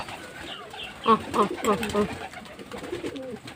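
Pigeons being hand-fed on a scorching 40°C summer day give a close burst of throaty cooing calls in the middle, with softer murmuring before and after.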